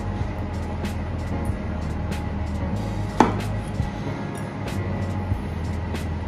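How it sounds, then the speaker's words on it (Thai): A knife cuts straw mushrooms in half for a Thai tom kha gai soup, making a few sparse, sharp chops over a steady low background hum. "ขั้นตอนแรกนะครับหั่นเห็ดฟางครึ่งนึงนะครับ"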